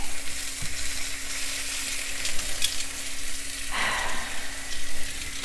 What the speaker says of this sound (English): I'm going to go ahead and place the peaches flesh side down onto the grill pan.